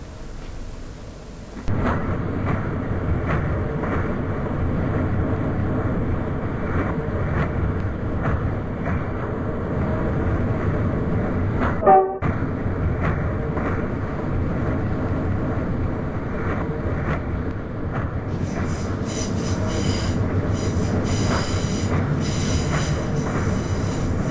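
A passenger train on the line out of London Liverpool Street, heard from the cab while running in reverse with a driving van trailer, gives a steady loud rumble of wheels on rail with a sharp clunk midway and a brighter rattling later.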